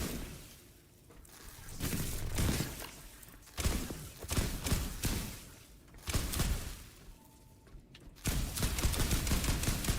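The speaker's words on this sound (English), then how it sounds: "we're exploding everything around us" Loud explosions in the video game The Last Caretaker, heavy crashing blasts and debris bursts repeating in waves across the scene, close and dense with no talking.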